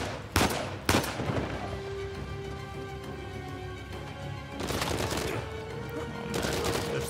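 Sharp gunshots in Uncharted 4 crack close and loud near the start, with sniper fire and scattered bursts breaking out again later over a steady hum of game background.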